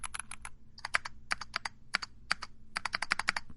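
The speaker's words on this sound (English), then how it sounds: "Or do you want to hear it with both hands typing?" Crisp, clicky keystrokes on a mechanical keyboard come in quick bursts separated by short pauses, heard close and alone.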